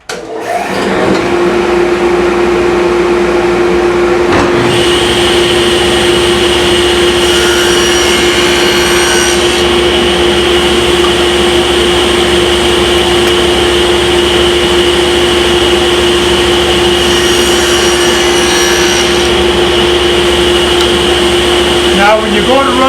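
A saw cuts a slot in wooden crown molding with a steady, loud high-pitched whine. A sharp change near the start gives way to a long continuous run with slight shifts in pitch.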